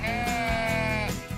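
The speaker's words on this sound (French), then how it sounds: "les moutons pâturent au pied de 3000 pierres alignées" A single sheep bleats loudly and close by among the standing stones of Carnac, one sustained, quavering cry lasting just over a second.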